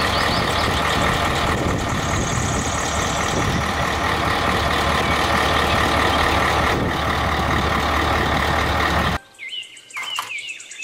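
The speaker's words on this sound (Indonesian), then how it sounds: "Mobil dam truk." A toy dump truck runs with a steady engine hum and repeated reversing beeps, loud and continuous for about nine seconds before cutting out to a quieter tail.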